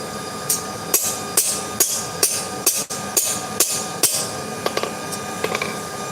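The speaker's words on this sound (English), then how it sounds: "I'm just working on forging the guard." Steel struck with a hammer while forging a sword guard, about a dozen sharp ringing blows in a steady rhythm, close and loud, ending in a few lighter taps.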